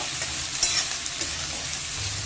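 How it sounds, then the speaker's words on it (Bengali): Cut potatoes fry in a pan and are stirred. There is a soft, steady sizzle with a few light scraping clinks of the stirring utensil, heard close and fairly quiet. "আলুটা দিয়ে 1 থেকে 2 মিনিট ভালো করে ভেজে নেব।"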